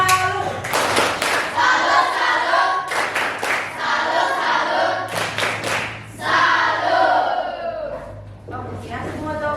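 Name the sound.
classroom clapping a salute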